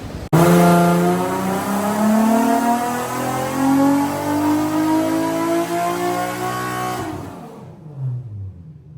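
Turbocharged automatic Nissan 350Z running on 85 fuel, its engine revving through a full dyno pull: a loud, steadily rising tone with whine for about seven seconds, then cutting off and winding down.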